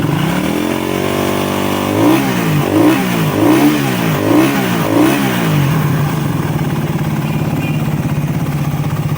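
A motorcycle engine that has been burning oil, with no leaks or smoke, idles close by, then revs hard in five quick throttle blips before settling back to a steady idle.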